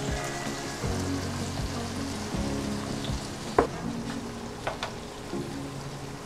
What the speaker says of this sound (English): Now we're gonna cook this for a minute.